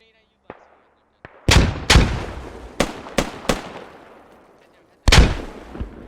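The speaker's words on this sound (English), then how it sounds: "Yep, there goes the grenades." Grenades exploding in the military video game Squad, two faint pops followed by five loud, close blasts in uneven succession, each with a rumbling decay, and a final heavy blast after a short pause.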